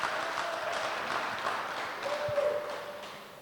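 A round of applause for two new trainers at a staff meeting, moderate clapping from a small group that holds steady and then tapers off.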